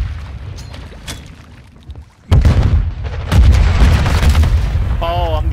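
Gunfire and explosive booms in ranked multiplayer play of Call of Duty: Modern Warfare II, loud and close. A quieter stretch gives way to heavy bursts of shots and impacts that keep going to the end.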